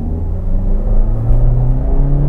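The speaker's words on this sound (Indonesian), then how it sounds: "Sekarang saya mau akselerasi. Saya injek gas." Suzuki All New Ertiga hybrid accelerating under throttle, a steady loud engine drone rising with low harmonic lines, continuous close interior rumble with no talk.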